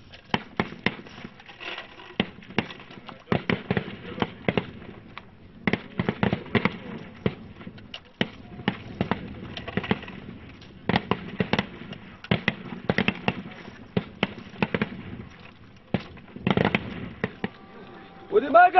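Sharp bursts of rifle gunfire crack out repeatedly during army recruit training, irregular single and clustered shots at moderate distance, with people talking between them.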